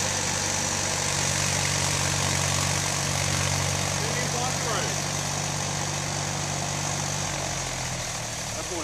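Backhoe engine idling and running near a tree being pushed down outdoors, a steady low diesel drone with a rumbling throb throughout and no clear speech.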